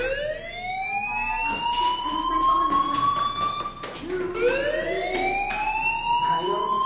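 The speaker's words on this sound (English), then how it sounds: "do you hear that fire alarm?" A fire alarm sounds inside the Life is Strange video game as a loud rising siren-like tone that repeats, with a voice speaking over it.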